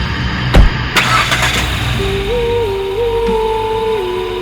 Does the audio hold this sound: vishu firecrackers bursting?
no